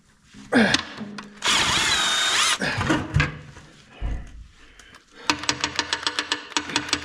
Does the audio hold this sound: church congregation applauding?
no